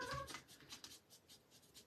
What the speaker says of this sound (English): That funny noise in the background is just the cat chirping away and climbing her pole.